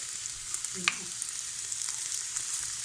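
Onions frying in a pan for chicken crepes with béchamel sauce, giving a faint, steady sizzle with a few small pops and a brief stir near the start.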